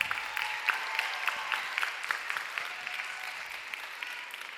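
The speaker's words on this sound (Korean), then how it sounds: "우리 박수로 맞을까요?" A church youth service congregation applauding to welcome an engaged couple, a brisk steady clapping from the crowd that tapers slightly, heard from a distance without talk.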